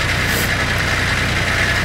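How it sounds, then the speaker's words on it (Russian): A tractor engine runs steadily while clearing snow, a loud, continuous low idling rumble with a harmonic drone, close by and alone with no voices. "В конце концов трактор у них есть."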